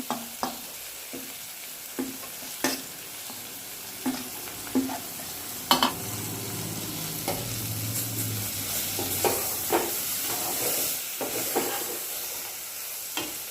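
A spoon scrapes and clacks against a pan at irregular intervals over a constant sizzle of cooking tomato pieces, turmeric and ginger-garlic paste for bitter gourd curry, with no voices.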